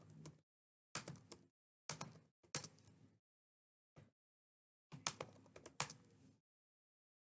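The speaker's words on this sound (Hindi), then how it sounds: "उसके बाद मैं यहाँ टाइप करता हूँ अपना नाम, शनाख्ती कार्ड" Typing on a computer keyboard in short, quiet bursts of rapid key clicks, separated by silent pauses.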